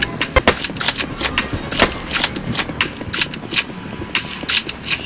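Rapid bursts of gunfire crackle from Roblox War Tycoon, sharp shots in uneven clusters, some fast and machine-gun-like, loud and close with no talking over them.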